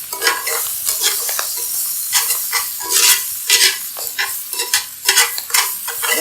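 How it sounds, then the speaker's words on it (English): Garlic and spinach sizzle loudly in a hot pan on a hot plate while a utensil stirs and scrapes them around in uneven strokes, close and steady, with no talking. "We're just going to keep moving this around, making sure that the garlic doesn't burn to the bottom of the pan, that the spinach doesn't burn to the bottom either"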